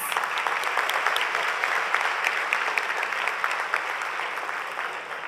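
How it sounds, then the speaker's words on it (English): Audience applause at a Model UN opening ceremony following a musical performance, a dense, steady wash of many hands clapping at fairly close range, sustained throughout with no pauses and no talk over it. "I would like to hear another round of applause for that"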